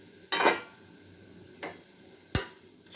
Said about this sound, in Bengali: ঢাকনাটা খুলে দেব।